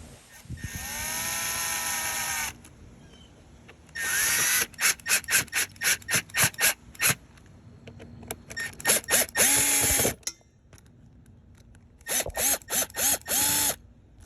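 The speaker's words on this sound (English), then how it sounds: "So now what I'm going to do is install these clamps." Tightening hose clamps on the carburetor boots of a Yamaha Banshee: bursts of a high-pitched electric driver whirring, some sustained and others in quick rapid pulses, separated by quiet gaps and light clicks.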